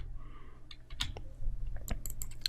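Someone types on a computer keyboard at close range, producing sparse, irregular clicks and taps that come in quicker bursts toward the end over a low background hum.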